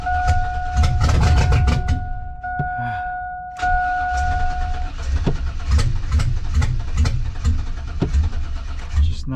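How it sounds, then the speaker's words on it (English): Cadillac Escalade engine with a fuel problem catching on starting fluid: a loud, close starter whine and rough cranking, then the engine sputters and runs raggedly for several seconds, unsteady throughout. "We hit that again with starting fluid."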